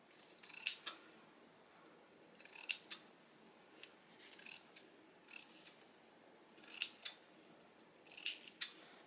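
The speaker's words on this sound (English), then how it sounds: "I'm using my pinking shears." Pinking shears snip through fabric in quiet, crisp bursts, about six separate cuts spaced a second or two apart, each a short metallic crunch close to the microphone with near silence between.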